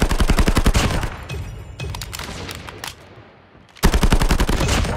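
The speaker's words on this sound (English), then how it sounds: "Sentry gun deployed." Automated sentry gun firing in Call of Duty Mobile during ranked Hardpoint gameplay: loud, rapid bursts of machine-gun fire, a short lull with scattered shots, then the sustained stream of gunfire resumes.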